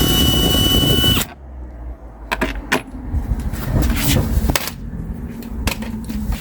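Torx screws being loosened from interior trim on a Sprinter-based Winnebago View Navion, heard as a few close clicks and rattles of a driver and hardware after a steady mechanical whir stops.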